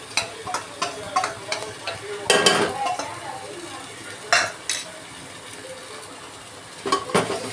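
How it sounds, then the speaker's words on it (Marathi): Homemade chicken curry masala sautéed in a pan, a spoon clattering and scraping against the metal in quick bursts over a soft, steady sizzle. "आता चांगला परतून घ्यायचा"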